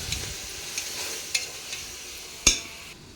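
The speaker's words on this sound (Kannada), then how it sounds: "ಸೇರಿಸ್ಕೊಂಡು ಈ ಶುಂಠಿ ಬೆಳ್ಳುಳ್ಳಿ ಹಸಿ ವಾಸನೆ ಹೋಗೋ ತನಕ ನಾವು ಫ್ರೈ ಮಾಡ್ಕೊಬೇಕು." Ginger garlic paste fries in a pan on an electric stove with a quiet, continuous sizzle, punctuated by a few light utensil clicks and one sharper scrape or tap near the end.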